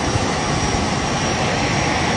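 A private jet's engines run with a constant, dense roar that fills the cabin, steady and loud for the whole stretch with no talk standing out.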